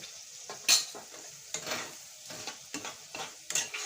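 Green pea pickle being stirred and fried in a pan, with a spoon scraping and stirring in repeated short strokes over a soft, steady sizzle, fairly close and alone.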